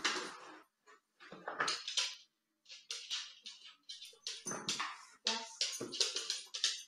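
A dog grows frustrated during a training session, giving a run of short whimpers, yips and soft vocal bursts, fairly close and in broken, uneven bursts with brief pauses between them.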